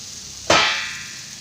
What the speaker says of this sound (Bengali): আমি এখন ঢাকনা খুলে তোমাদের দেখাচ্ছি।